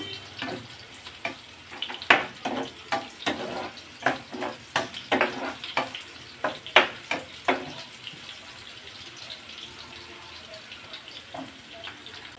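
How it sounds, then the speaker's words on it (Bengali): Onions frying in a pan until brown, with irregular bursts of sizzling and stirring clatter over the first eight seconds that then settle into a quieter, steady crackle. "পেঁয়াজগুলো একটু ব্রাউন কালার করে ভালো চান করে নিব অর্থাৎ পেঁয়াজ বেরেস্তার মতো করে করে নেব"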